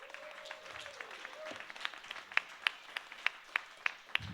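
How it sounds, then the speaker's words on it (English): A round of clapping from the audience at Startup Weekend Pittsburgh's final startup pitches, sparse and scattered at first, then settling into a run of sharp, evenly spaced claps that stand out clearly near the end. "let's give a round of applause for all the teams so far"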